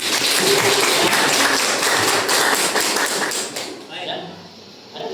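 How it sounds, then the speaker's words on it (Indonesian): A group in a facilitator training session claps in a busy, steady burst for about three seconds before it fades out, with people talking under and after it. "Tepuk tangan dong untuk Budi."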